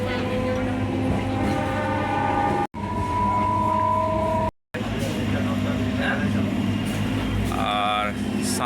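Steady, loud rumble and hum inside a moving local train on the Santragachi to Digha route. A constant low drone runs throughout, broken by two short dropouts, and a brief tonal squeal or horn comes near the end.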